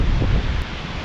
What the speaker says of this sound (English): It is really windy coming up this valley.